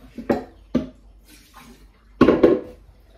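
Water drips and splashes from a lifted mass of wet cassava paste being prepared for chikwangue, a few close, distinct splashy drops and a short cluster of splatters.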